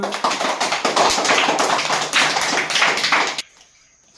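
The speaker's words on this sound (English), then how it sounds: "Clap for her." A classroom of rural students claps together in brisk, rapid, close-by applause that runs steadily for a few seconds before stopping abruptly, leaving quiet.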